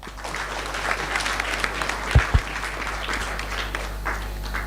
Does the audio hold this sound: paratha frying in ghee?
no